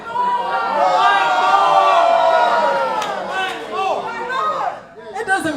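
A concert audience at a show cheers and whoops on request, a loud, dense swell of voices that holds for several seconds, thins out, then rises again in scattered shouts.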